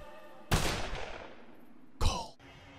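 Two loud, sharp gunshots ring out in a video game about a second and a half apart, the first followed by a long decaying tail and the second by a brief ringing sweep, with a quiet background between.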